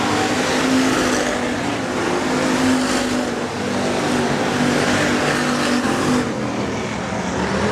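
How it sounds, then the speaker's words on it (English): Hobby stock race cars lap a dirt speedway in a heat race, their engines roaring steadily and loudly as a dense, continuous drone without any talk. "As Dustin Gilbranson, he'll click off another lap here in your heat race."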